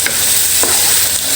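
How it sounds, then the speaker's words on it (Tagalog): Chicken meat for tinola sizzles and crackles as it browns in a pan, a short, close burst of frying with faint stirring. "Hihintayin naman po natin mag-brown ang karne."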